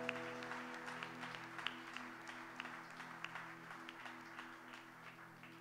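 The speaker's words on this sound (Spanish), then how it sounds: "Den un aplauso al Señor, hermano." Quiet congregational applause at a church sermon, a soft, distant patter of many hands continuing for several seconds over a sustained low organ or keyboard drone.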